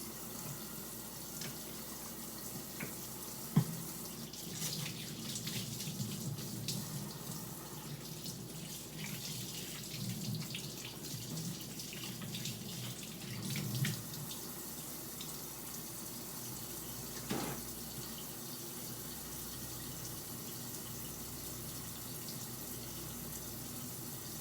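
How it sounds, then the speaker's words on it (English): A kitchen tap runs steadily while hands are washed before baking a sour cream pound cake, a soft continuous stream of water at moderate distance with a few small knocks and splashes, and no talking. "I'll wash my hands."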